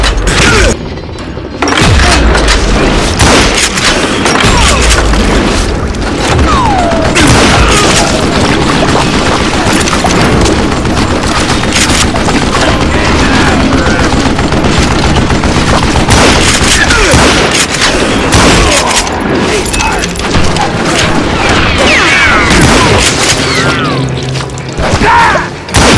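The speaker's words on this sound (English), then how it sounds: "a fusillade of bullets come raining down from on high" Loud, dense gunfire rains down from above in the Western shooter Call of Juarez: Gunslinger, a continuous volley of rifle and pistol shots and booming impacts for nearly half a minute, with a voice heard faintly at times.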